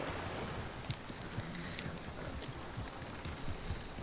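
In the Red Dead Online video game, a horse's hooves clip-clop in a quick, steady rhythm, quiet and faint against a soft background hiss.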